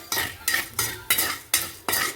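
Spoon scrapes and stirs dry urad dal, coriander seeds and chana dal roasting in a pan, six distinct strokes in a steady rhythm, close and clear with a faint sizzle.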